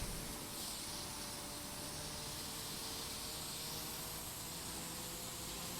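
A fire hose spraying water inside the EmergeNYC firefighting game, a continuous broad hiss with no break or change in level throughout.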